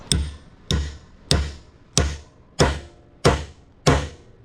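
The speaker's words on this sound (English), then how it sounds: "And we're just going to tap this with a hammer a little bit" A hammer taps a metal Lotus rear-view mirror body being reformed, seven evenly spaced, close, ringing strikes with short decays and nothing else in between.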